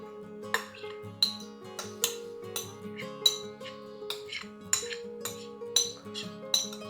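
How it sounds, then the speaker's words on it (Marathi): Apple filling is spooned into a large pie tin, with a regular run of bright metallic clinks and taps of a spoon against the tin, close and moderately loud, over a faint steady tonal background. "हे आता आपलं ॲपलचं मिक्सचर जे आहे या पाय टिनमध्ये आता आपण घालतोय."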